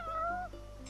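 A cat in Final Fantasy XV gives a single short, clear meow that rises and then falls, close and alone over faint game background hum.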